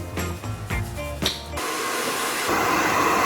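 A steady broadband blowing roar kicks in partway through, loud and continuous like a hair dryer running close by, after a stretch of other clattering sounds.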